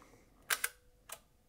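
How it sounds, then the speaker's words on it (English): A Mamiya C220 twin lens reflex medium format film camera fires its shutter close up: a quick double mechanical click followed by a softer single click, crisp and isolated against a quiet room. "Once you fire the shutter, you can flip this out here, and this will advance the film."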